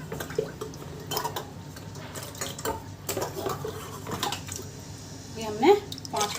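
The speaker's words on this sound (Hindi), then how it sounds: "ये हमने 5 कटोरी पानी डाल दिया इसमें।" Water is poured from a bowl into a metal pot of samak rice, with clinking of the vessel, splashes and stirring sounds close by, while someone talks intermittently.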